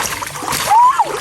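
A milkfish thrashing in a fishing net in water, a short splashy slap and splatter lasting about a second, close by, with a voice calling out over it.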